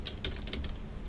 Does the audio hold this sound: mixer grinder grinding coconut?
no